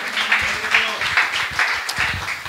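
A church congregation at a Saturday youth fasting worship service claps in a rhythmic, steady beat, loud and continuous, while a voice speaks over the applause.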